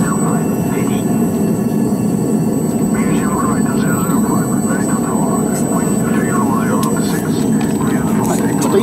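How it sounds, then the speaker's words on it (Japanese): Airplane beginning its takeoff roll on the 4,000 m Runway A of a two-runway airport, a loud, steady broadband engine roar filling the whole stretch, with voices talking over it. "そのうちの A 滑走路 4000m の滑走路から一旦、離陸を開始するということになります"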